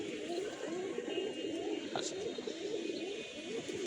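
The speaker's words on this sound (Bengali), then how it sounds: "কবুতরগুলা ছেড়ে রোদ খাওয়াচ্ছে" Soft, low pigeon coos murmur continuously in a loft, a few birds overlapping with faint rustling and background hum.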